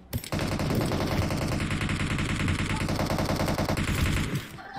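Sustained automatic gunfire from PUBG Mobile, a rapid, loud, continuous rattle of shots lasting several seconds, close and dense, with a brief pause at the start and tapering near the end.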